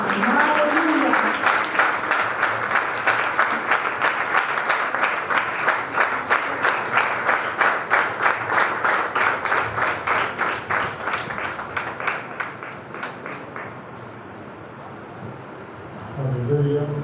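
A church congregation gives a dense, sustained round of applause to welcome the vice pastor. The clapping stays loud for about thirteen seconds, then thins and fades before a voice returns at the end.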